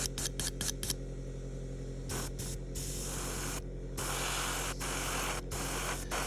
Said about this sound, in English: because of the angle I'm firing this airbrush at, we're getting white spots at the back